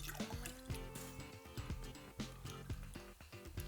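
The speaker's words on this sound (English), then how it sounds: "Now, since this is chilled, it's ready to go. And pour into an interesting glass" A chilled cocktail is poured into a glass, a short bubbling, dripping pour with small clinks of ice, close and quiet, with no talking.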